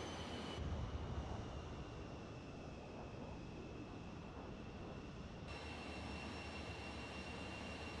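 Concorde jet engines in Microsoft Flight Simulator give a continuous, even roar with a faint high whine, steady and moderately quiet throughout, with no talking.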